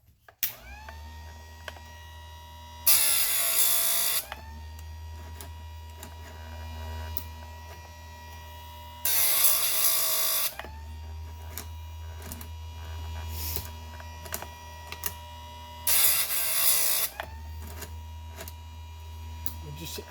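A Harbor Freight electric chain sharpener grinds a chainsaw chain in three short, loud bursts of harsh, high grinding at regular intervals. A low motor hum runs steadily between the passes.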